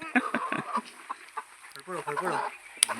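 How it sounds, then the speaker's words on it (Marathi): Rooster clucking during a daytime chase to catch village fowl, with several short, loud, close calls broken by pauses, while people talk over and between the bird's sounds. "तर अक्षयाचा कोंबडा पकडू"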